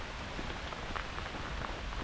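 Steady rain patters densely and evenly on surfaces all around a hiker on the Rheinsteig trail between Bad Honnef and Linz, a close, constant wash of drops with no voices.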